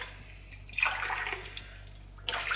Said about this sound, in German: hineingeben wir jetzt lauwarmes Wasser